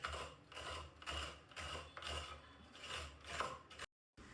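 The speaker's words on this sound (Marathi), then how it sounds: "नारळ असं पकडायचं आहे आणि या खवणीवर एका साईडनी आपल्याला खरवडून घ्यायचंय." A split coconut scraped against a traditional khavani hand grater, a steady rasping scratch repeating in quick strokes about twice a second, close and fairly loud, with a brief pause near the end.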